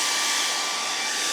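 A hair dryer blows steadily onto hiking boots to heat a boot treatment, a continuous close, loud whooshing hum with no talk.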